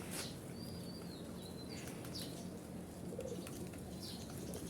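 Soft, low cooing of pigeons repeats under a steady outdoor hum, with a few distant bird chirps and whistles mixed in.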